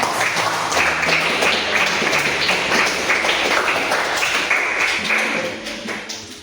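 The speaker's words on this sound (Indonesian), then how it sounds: "Beri tepuk tangan untuk kelompok 2" Classmates in a classroom training session applaud a presenting group, a dense, steady patter of many hands clapping close by for several seconds before tapering off.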